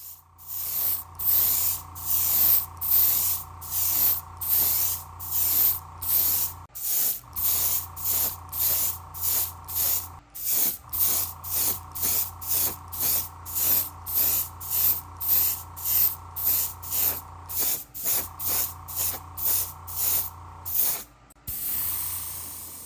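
Black primer sprays from a can onto a resin model car body of a Honda Mugen CRX, a close series of short hissing bursts in a steady rhythm with tiny gaps between them.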